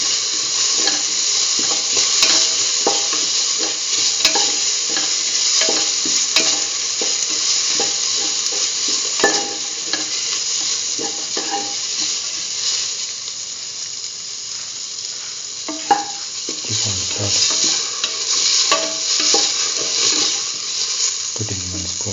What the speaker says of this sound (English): Mix the tomato and the mixture spices with the rest of the mixture.